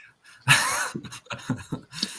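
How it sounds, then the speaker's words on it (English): A dog in a house gives one loud, close, sharp bark, followed by several shorter huffing, whimpering breaths and snorts in quick succession. "Gotta get past the dog."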